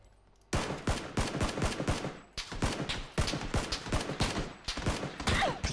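Automatic rifle fire in PlayerUnknown's Battlegrounds, loud sustained bursts of rapid shots cracking close by, with brief gaps between volleys and no talk.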